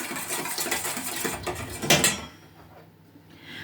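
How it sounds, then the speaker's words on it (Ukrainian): A spoon stirring sugar into a liquid mixture in a bowl for dough, scraping and clinking close up for about two seconds before fading to near quiet. "Трішки вимішаємо, щоб нам розчинився цукор."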